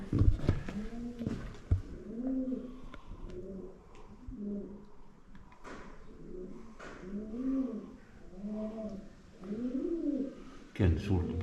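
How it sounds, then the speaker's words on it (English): Pigeons coo repeatedly inside the stone ruins of Kidwelly Castle, a run of soft rolling calls repeating at a steady rhythm, fairly close and clear over quiet background. "Lots of pigeon noises."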